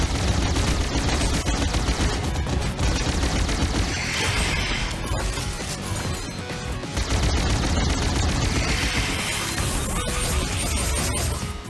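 Gunfire in the video game Critadel comes as dense rapid bursts of shots and crashes. The loud, continuous barrage fills the whole stretch with little let-up.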